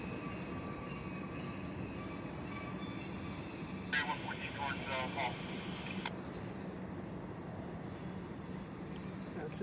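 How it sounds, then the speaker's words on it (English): A Union Railroad train rumbles steadily past on the tracks near the Hall shops in a low, continuous roar, with a brief metallic squeal partway through. "That's his train."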